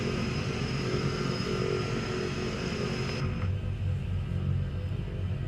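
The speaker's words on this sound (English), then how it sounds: "that's the first engine fired up." A simulated Embraer EMB-110 Bandeirante twin turboprop in Microsoft Flight Simulator 2020 runs with its first engine started, a steady loud droning rumble with a constant whine that drops in brightness partway through.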